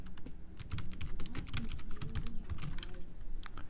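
Rapid typing on a computer keyboard while building an HTML and CSS project, with steady close-up key clicks in irregular bursts, loud and alone with no voices.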